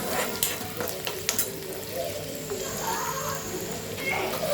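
Finely chopped onion fries in a pan for an egg curry, with a steady close sizzle and a few sharp scrapes of a spatula stirring it. A faint bird cooing sits in the background.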